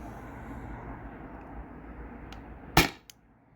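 A CO2 air pistol fires a single sharp shot, with a fainter click shortly after, against a steady low background hum.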